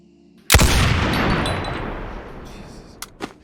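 A 20mm anti-tank rifle fires once in the VR game Boneworks. It is a single loud, close boom with a long rumbling tail, followed by a couple of small mechanical clicks as the tail fades.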